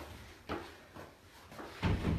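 A glass shower door being opened while cleaning a bathroom, a series of soft knocks and clunks with a louder rattling thud at the end, close and quiet, no talk.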